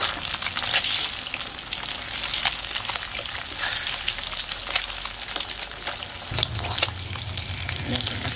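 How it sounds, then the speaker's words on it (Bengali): Fish pieces frying in hot oil and being turned one by one, a continuous close sizzle with crackling pops and a brief clatter near the end, no voices. "একদম চাবুক চাবুক হয়ে মাছটা ভাজা হবে।"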